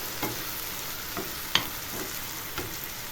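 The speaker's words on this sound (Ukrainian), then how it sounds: "Накришила, обсмажую до золотистого кольору." Onions frying in a pan with a soft steady sizzle, broken by a few scattered clicks and scrapes of stirring.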